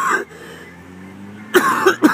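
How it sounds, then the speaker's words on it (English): Someone outdoors on a mountain hike coughs, one rough cough at the start and then a quick cluster of harsh coughs near the end, close and loud with a quiet pause between. "I hope I'm not turning you off with a cough."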